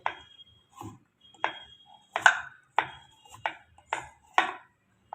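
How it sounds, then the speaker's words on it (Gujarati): A knife chops through a block of desi jaggery for peanut chikki with about eight sharp, separate cuts at a fairly even pace, close and clear with no talking. "દેશી ગોળ ગોળને કાપી નાખીએ આવી રીતે"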